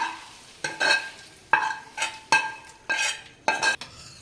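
Rice and vegetables stirred together in a pot for moong dal khichdi, with about six distinct rhythmic spoon strokes scraping the pan amid a soft sizzle, close and alone without talk.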